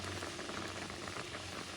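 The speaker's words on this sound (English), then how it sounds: "It's kind of boiling a little bit, so I'm going to reduce it like to medium." Coconut candy mixture for Puerto Rican dulce de coco boils in a pot on the stove, a steady close bubbling and soft popping that continues evenly without pause.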